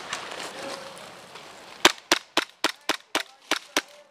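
Gunfire in an airsoft-style push game, heard as a rapid run of about eight sharp, loud, close cracks after a stretch of quieter ambient noise.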